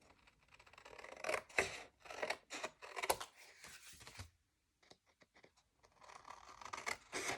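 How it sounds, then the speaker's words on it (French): Close, papery snipping and crunching of scissors cutting paper comes in bursts, with a short quiet gap midway before the cutting resumes. "soit avec une paire de ciseaux."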